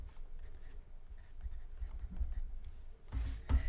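A white pencil scratches across paper in quick, close strokes, a dry scribbling texture with a louder rub near the end.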